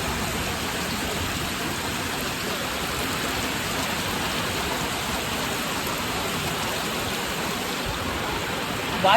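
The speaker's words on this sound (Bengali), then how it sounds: "হচ্ছে প্রচণ্ড পরিমাণে ঝড় বৃষ্টি" Heavy Bengali rainstorm pours down in a dense, constant hiss of rain on surfaces, loud and unbroken from start to finish with no voices.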